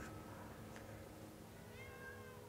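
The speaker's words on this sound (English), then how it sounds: "That's a suspiciously green-eyed cat." A cat meows in the Doctor Who Adventure Games video game, two or three short mews over a steady bed of game music and ambience.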